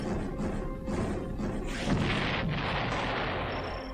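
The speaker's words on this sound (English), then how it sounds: "I do love the explosion sound effect in this game." A continuous roaring blast of explosions in the video game Command and Conquer: Red Alert rumbles and crackles, loud and dense with debris-like noise, swelling briefly before slowly fading out.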